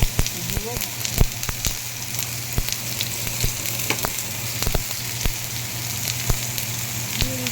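Chopped tomato frying in oil in a wok, after cumin seeds and dried red chillies were tempered, for vegetarian ghugni: a steady close sizzle with scattered pops and crackles throughout, and no talking.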